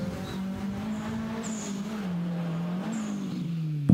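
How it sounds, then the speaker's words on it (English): Nissan S13 drift car held at full throttle at a drift series round, a steady loud engine drone that rises and dips slightly as it slides, with brief tire squeal and no talk. "Pushing that S13 to its limits."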